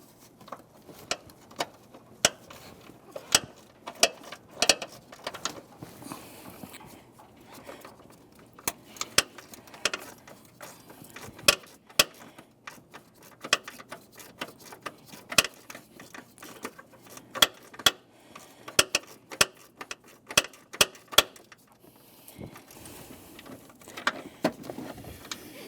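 A ratchet clicks in quick, uneven bursts of metallic ticks while backing out a transmission mount bolt on a 2003-2007 Honda Accord, with short pauses between strokes.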